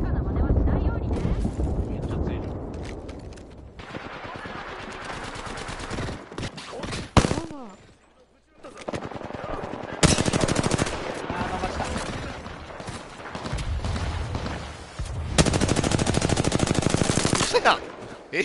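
Gunfire in the game Apex Legends: dense bursts of rapid automatic shots, loud and close, in several long volleys separated by short lulls, with a player talking over parts of it.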